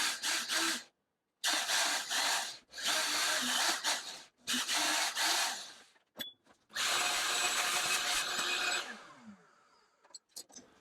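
An Irwin bit drills a hole through MDF in several loud, whining bursts separated by short pauses, the last one winding down and trailing off, with no talking.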